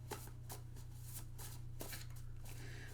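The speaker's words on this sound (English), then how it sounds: "we're going to shuffle these bad boys" A deck of cards is shuffled in quick, soft riffling bursts over a steady low hum, faint and close.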